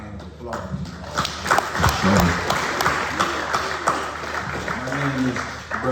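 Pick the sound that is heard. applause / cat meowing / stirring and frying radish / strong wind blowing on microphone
applause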